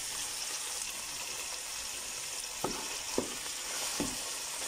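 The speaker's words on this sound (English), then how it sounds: "we're going to let this simmer in its own juices for about 5 minutes before we add in our spices" Chops and other ingredients simmer in their own juices in a pan, a continuous soft sizzle under a few brief knocks as they are moved around, fairly quiet and with no voices.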